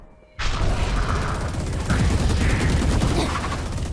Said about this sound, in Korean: 재장전 중